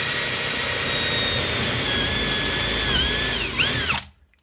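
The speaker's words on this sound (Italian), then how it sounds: "Inseriamo la punta di trapano tocchiamo il legno, torniamo indietro di poco, avviamo alla massima velocità," Power drill at full speed boring a dowel hole in wood with a KWB dowelling jig, a loud steady whine with shifting pitch that winds down and stops abruptly near the end.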